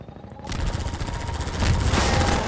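Rapid automatic gunfire aimed at an enemy helicopter in the video game Half-Life 2, a continuous rattling burst that starts abruptly after a brief quiet moment and stays loud and close, with a slight swell toward the end.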